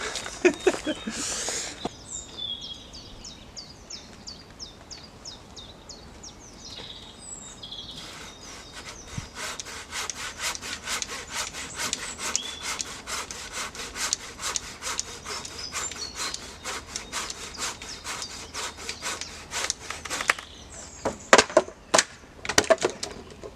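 Hand saw cutting through wood at a camp build, a steady run of rapid rasping back-and-forth strokes, close and fairly loud, with faint birdsong in the background.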